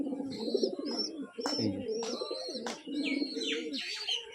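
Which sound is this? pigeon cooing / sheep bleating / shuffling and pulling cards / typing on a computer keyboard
pigeon cooing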